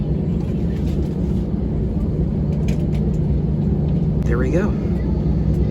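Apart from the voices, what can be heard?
airliner engines as the plane starts taxiing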